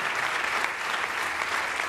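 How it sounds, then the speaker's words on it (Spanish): A church congregation during a Spanish-language sermon breaks into a short burst of applause, a brief wash of many hands clapping at once, moderately loud and even throughout. "Denle un aplauso al Señor."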